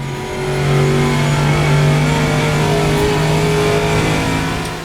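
Adonis V12 race car in a sim racing game, its engine droning loud and steady with a sustained, even tone throughout, swelling slightly and then easing off at the end, with no talk over it.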